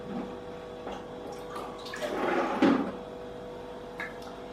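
Half a cup of cold water is poured into a container while baking dough for garlic and herb bread rolls, a brief swelling splash over steady kitchen background noise.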